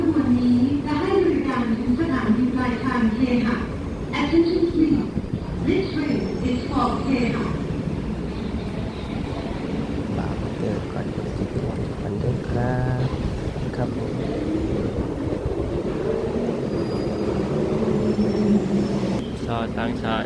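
A BTS Skytrain rumbles and hums as it slows arriving at Mo Chit station in Bangkok, with wind noise and rattling; someone talks over it much of the time, and a brief chime sounds.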